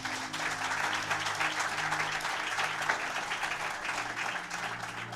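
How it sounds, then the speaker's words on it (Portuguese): Church congregation applauding during a Portuguese-language sermon, a dense wash of clapping throughout with a sustained organ or keyboard chord droning low beneath it, moderately distant and even. "Vamos aplaudir o Senhor Jesus por isso."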